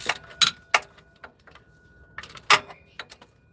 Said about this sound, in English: I'm not ringing a bell, that's just me hitting that pulley.